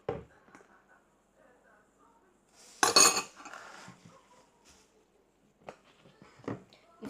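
A spoon clinks and scrapes against a bowl of crepe batter with oil in short, scattered bursts, with one louder rattling stir in the middle and quiet pauses between.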